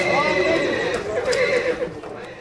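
A horse bolts and jumps a fence, neighing loudly with hooves thudding nearby, while a voice talks over the commotion.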